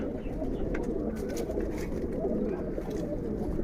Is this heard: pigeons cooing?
yes